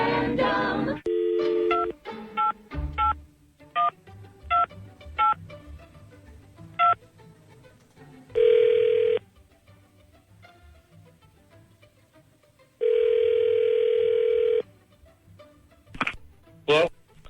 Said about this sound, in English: let's call up you-know-who here. Hang on a second. Dialing at random.